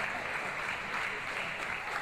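A crowd in a wrestling arena applauds, producing a continuous wash of clapping that stays fairly faint and even across the short stretch.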